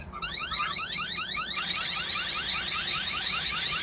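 A loud electronic siren from a solar wireless outdoor security camera warbles in rapid repeating sweeps, steady and continuous, stepping up in pitch and intensity partway through.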